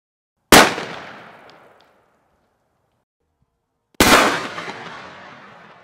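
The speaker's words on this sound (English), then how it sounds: "we're going to try double-aught buckshot in this same sporting shotgun, full choke, at the same 5-yard distance" Two sharp, loud shotgun blasts from a full-choke sporting shotgun firing double-aught buckshot, about three and a half seconds apart, each a crisp crack followed by a fading echo tail into silence.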